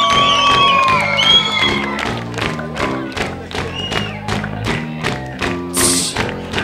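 A crowd at the Meggyfesztival concert claps in time with loud live band music, the rhythmic handclaps steady throughout with occasional whoops and cheers rising over the music.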